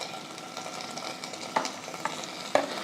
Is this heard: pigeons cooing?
no